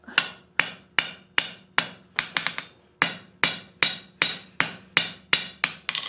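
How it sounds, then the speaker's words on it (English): A hammer strikes hot steel in a steady rhythm while forging a steel hand, about two blows per second, each hit ringing sharply and close. "you may have to bump out a finger a little bit more, one of the others to access it and be able to hammer on it"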